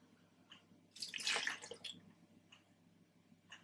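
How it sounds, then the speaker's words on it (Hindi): Water poured into a spice paste of vinegar and paprika for peri peri chicken, a short splashing trickle rising in the middle and fading into a few drips, quiet and close. "पानी अब इसमें डालेंगे"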